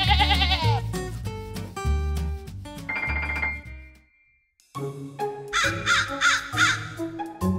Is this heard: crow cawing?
yes